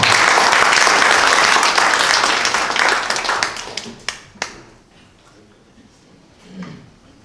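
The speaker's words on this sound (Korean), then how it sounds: "큰 박수 부탁드립니다" An audience at a policy forum on Korean animation applauds loudly for about three seconds, then the clapping thins to a few scattered claps and dies away, with faint room noise and a brief voice afterward.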